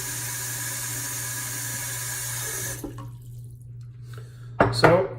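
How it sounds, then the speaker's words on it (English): Water runs steadily as it is poured out of a shaving brush soaking bowl for about three seconds, then stops; after a quiet pause, a couple of short, louder splashes follow. "let me dump some of this water out a little bit here and start loading the brush"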